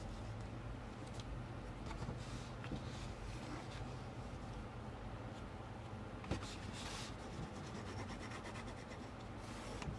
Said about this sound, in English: I'm going to take my foam folder and just burnish this down really well.